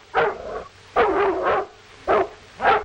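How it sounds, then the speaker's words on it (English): A dog in a 1935 western film barks repeatedly, about five loud, close, yappy barks in an uneven rhythm, with nobody talking. "That dog isn't barking for nothing."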